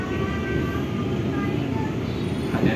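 A commuter train at Manggarai transit station rumbles steadily nearby, with faint metallic squeals riding over the low continuous noise.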